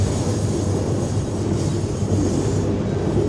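Kurigram Express passenger train running, heard from inside as a steady low rumble and rattle of the carriage on the rails, continuous and loud with no talking.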